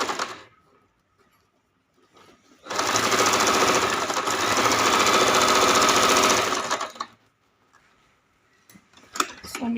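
A sewing machine stitches folded fabric into bra strips in one loud, rapid burst of about four seconds, framed by quiet handling clicks before and after.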